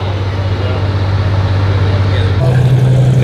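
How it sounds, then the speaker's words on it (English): Cars including a couple of Porsches and a big Ford F-350 pull out of a Cars & Coffee meet in San Mateo, a steady loud engine drone that rises in pitch and intensity partway through as a vehicle accelerates nearby. "We got these two rolling out. Wow, that sounds good."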